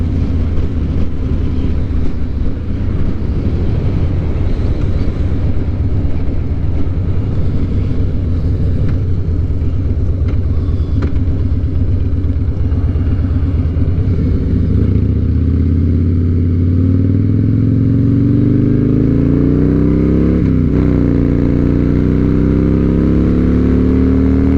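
A Harley motorcycle cruises at around 75 mph, its engine a loud, steady low rumble under heavy wind roar, with the pitch shifting midway as the engine note changes.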